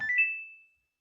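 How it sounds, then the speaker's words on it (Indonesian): A Samsung washing machine plays its short start-up melody, a single clear electronic tone that rings out alone and fades over about half a second. "Suaranya sudah ada nadanya, ya, tidak tit gitu, tidak bip 1 kali, tapi sudah ada nadanya."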